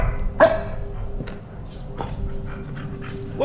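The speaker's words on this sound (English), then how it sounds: "why is the dog barking, bro?" Dog barking in a video game, one sharp bark near the start then panting and whimpering sounds over a steady in-game ambient hum, with no talk.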